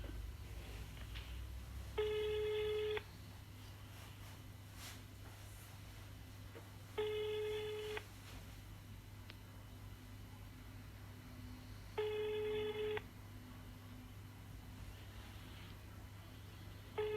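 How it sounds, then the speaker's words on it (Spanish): A telephone rings back over a line with no answer, three evenly spaced ring tones about one second long repeating every five seconds over a steady low hum, faint and with no voices. "Suena y no responde."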